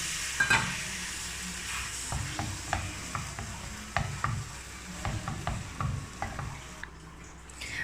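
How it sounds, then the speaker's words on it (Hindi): Potatoes and green coriander being stirred into masala in a frying pan for aloo tikki, with a steady low sizzle under repeated scraping strokes of the spoon, close and fairly quiet, with no talking. "आलूओं को करेंगे अच्छे तरीके मसालों के अंदर आलूओं को मिक्स"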